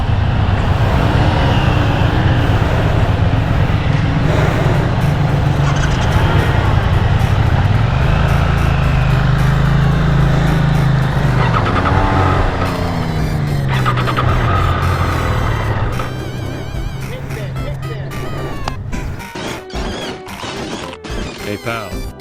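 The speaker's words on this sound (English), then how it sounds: "this is the Triumph Daytona 660. I am super stoked to ride this motorcycle." A Triumph Daytona 660 motorcycle rides along with a loud, steady engine drone and road and wind roar, its pitch rising and falling as it shifts, with a rider talking over it.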